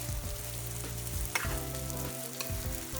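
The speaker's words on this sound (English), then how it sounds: "Give it a good stir" Rice stirred in a pot makes low scraping and rustling strokes under a faint sizzle, quiet and close, with a couple of sharper knocks of the spoon.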